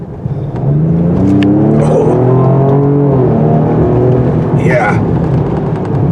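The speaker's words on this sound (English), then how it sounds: "With the throttle down, it goes and goes in a hurry. A little bit noisy when it does so" A 2025 Ford Explorer with a 3.0 turbo engine accelerates hard at full throttle, the revs sweeping up through the gears in a loud, close, rising growl, with brief short exclamations from a voice over it.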